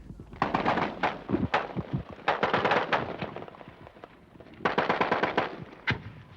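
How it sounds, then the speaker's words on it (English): Bursts of automatic gunfire in a Vietnam War firefight on Newport Bridge near Saigon, with rapid volleys of cracking shots in three clusters, loud and close, separated by short lulls. "The firefight lasted another 2 hours"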